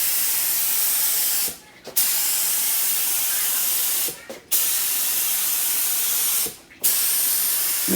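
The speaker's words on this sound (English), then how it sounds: "air compressor's on, activator gun is set up. I run the activator gun at about 40 PSI." Three long bursts of pressurized hiss come from an activator spray gun fed by an air compressor at about 40 PSI, misting activator over a tank during a dip build. Each bursts stays steady and loud for about two seconds before a short pause.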